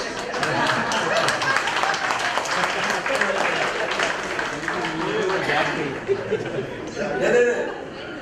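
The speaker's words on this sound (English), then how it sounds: "This is not a paid clap, huh?" An audience at a realtor session claps through a talk, moderate applause mixed with scattered chuckles and chatter, with a voice speaking over parts of it.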